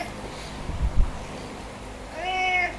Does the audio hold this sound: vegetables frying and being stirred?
no